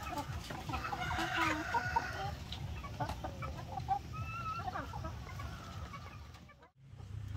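Egg-laying chickens cluck and squawk continuously while being bathed, over a dense, noisy farmyard background, with a brief crow-like call now and then.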